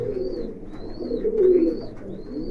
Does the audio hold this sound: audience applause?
no